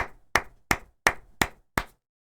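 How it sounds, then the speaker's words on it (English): Six sharp, isolated claps spaced evenly about a third of a second apart, loud and close, followed by silence, like a single person giving a slow deliberate round of applause. "Big round of applause."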